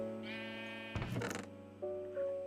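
Sheep bleating in the Minecraft video game, two wavering harmonic bleats separated by a short burst of noisy game sound, with a faint tone near the end and no talk.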